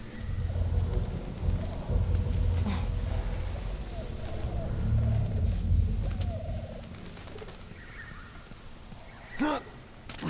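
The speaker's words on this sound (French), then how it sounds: "C'est quoi qu'on entend? C'est un pigeon?" Pigeons coo softly in the background of The Last of Us Remastered, low throaty calls rising now and then from a steady ambient bed of game sound and music.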